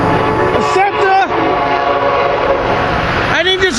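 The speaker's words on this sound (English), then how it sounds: "We got a race here, the Triple B race. We got an Amtrak, a SEPTA." An Amtrak train and a SEPTA commuter train pass close by in a loud, continuous rumble, with a train horn sounding in bursts near the start and again at the end.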